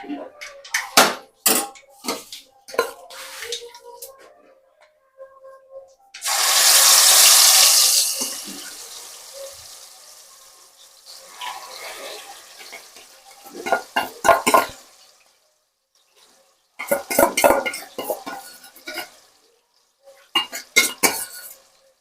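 Red chilli masala powder tipped into a hot pan and stirred, with sharp metal spoon clinks and scrapes in scattered clusters and one brief hissing burst midway.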